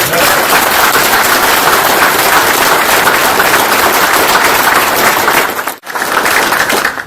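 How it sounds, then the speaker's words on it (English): An audience at a military change of responsibility and retirement ceremony applauds the national anthem singer, a dense, loud, steady wash of clapping that breaks off briefly near the end before resuming. "So, can we give her a round of applause?"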